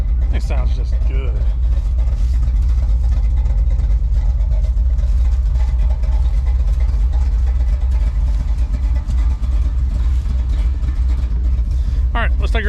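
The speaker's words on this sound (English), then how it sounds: "I forgot how good this truck sounds." A truck engine warms up at idle with a steady, heavy low rumble that holds evenly throughout, close and loud, with faint voices in the background.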